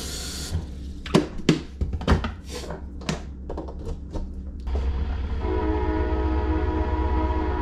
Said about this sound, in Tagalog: Dadaanan naman yung train.